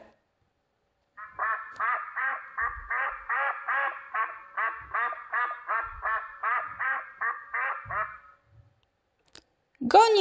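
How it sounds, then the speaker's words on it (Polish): A duck quacks in a long run of about sixteen evenly spaced, nasal calls, close and clear, followed by a short pause and a brief extra sound at the end. "Kaczka kwacze."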